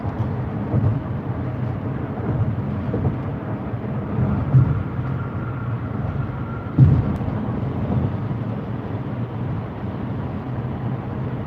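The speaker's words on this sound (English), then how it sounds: "that plane came right over my head" An airplane passes low overhead, a loud, steady broadband roar with wind buffeting on the microphone and a few louder gusts, lasting throughout with no speech.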